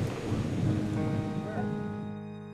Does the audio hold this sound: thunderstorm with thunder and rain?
yes